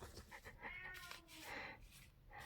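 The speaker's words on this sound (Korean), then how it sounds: "고양이가 이상해요." A cat meowing in a drawn-out, wavering call that breaks into a second rising yowl, faint and somewhat distant against background noise.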